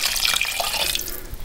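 Water pours from a tap into a cooking pot for a steak, mushroom and onion pie filling, a brief, close, steady splashing gush with no talk.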